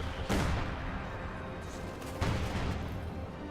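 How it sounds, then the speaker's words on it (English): Anti-infantry strafing run in Company of Heroes 2 during a 4v4 match: rapid bursts of gunfire and booms layered over a dense battle din, with a second burst arriving a couple of seconds later. "Anti-infantry strafe right on top of all the infantry"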